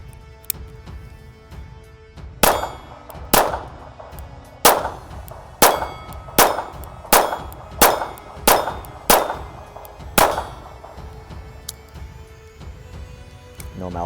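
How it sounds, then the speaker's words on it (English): A Ruger LCP II in .22 LR firing at a steel plate about 14 to 15 yards away, nine sharp shots at roughly one-second intervals, each a crack followed by a ringing metallic clang, with quiet outdoor background between. "the first steel plate that I'm shooting at is right around 14, 15 yards from where I'm standing"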